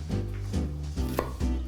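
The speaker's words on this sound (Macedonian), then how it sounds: "ќе исечеме кромит" A knife chopping onion finely on a board: four or five firm, evenly spaced thuds up close, with nothing else around them.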